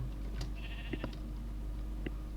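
A few short sheep bleats from Minecraft 1.18.1 sound over a steady low hum, spaced irregularly like game sound effects.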